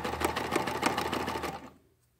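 Sewing machine stitching a quilt block of fabric onto the bottom of a rope bowl, a steady rapid needle rhythm running close and clear for about a second and a half before stopping.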